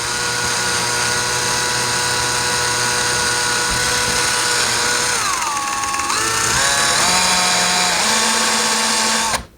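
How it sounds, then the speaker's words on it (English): A power drill bores into drywall with a loud, steady high whine that dips and shifts pitch midway as the bit bites in, then climbs again before stopping abruptly. "So I'm going to start it with a drill."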